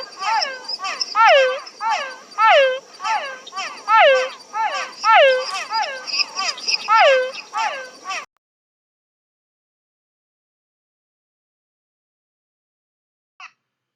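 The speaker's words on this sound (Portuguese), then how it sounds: "A ranzinha cachorro, você escuta esses latidinhos de um brejo" Dog-like frogs (ranzinha cachorro) call from a marsh with rapid, yelping, bark-like notes repeated in close, loud bursts for about eight seconds, then silence broken by one faint distant call.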